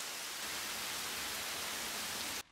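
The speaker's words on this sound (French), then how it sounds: "L'averse est arrivée brutalement." A sudden rain shower pours down in an animated cartoon, a dense, steady hiss of falling rain at constant loudness that cuts off abruptly at the end.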